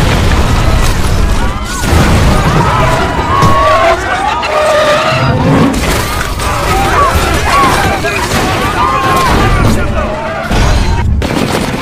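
An anti-tank missile strike on a vehicle in a Russia-Georgia war film, with booming blasts, gunfire bursts and tire skids layered under a voice talking throughout.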